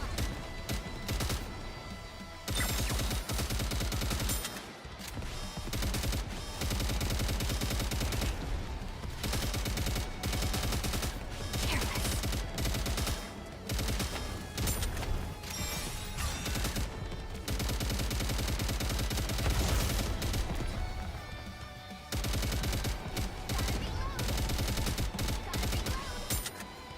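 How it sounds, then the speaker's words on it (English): Firecrackers explode continuously in the NIKKE video game during a summer celebration, dense loud crackling volleys with brief gaps, mixed with game sound and occasional talk. "I'm going to set off all the firecrackers!"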